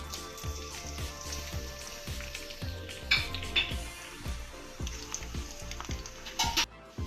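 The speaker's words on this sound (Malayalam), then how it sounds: "ഉണക്കമുളക് ഉള്ളിയും കൂടി ചേർത്ത് കൊടുക്കാം" Oil sizzles and crackles in a pan as dried chillies and onion fry, with repeated soft scraping strokes of a spoon in a steady rhythm, some louder spattering in the middle.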